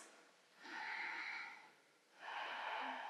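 Deep, audible breaths during a power yoga flow held in warrior 2, two long airy exhalations in a slow rhythm, close and fairly faint, with no talking.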